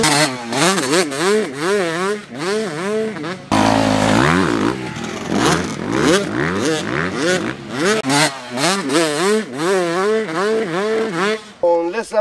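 A 125 motocross motorcycle rides over a track of jumps, its engine loud and close, revving up and dropping back over and over as the throttle opens and closes, with a brief rougher burst partway through.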